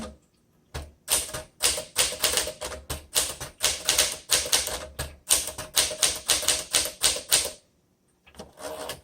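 A 1962 Smith Corona Sterling manual typewriter in Alpine Blue types in rapid, steady bursts of crisp close keystrokes, with a short pause near the start and a longer gap before the final few strokes.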